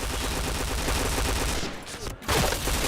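Rapid automatic gunfire in a shooter video game fires in dense bursts, dropping out briefly near the end before the shooting resumes.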